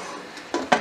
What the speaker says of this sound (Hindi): और अब हम कुकर को बंद कर देंगे,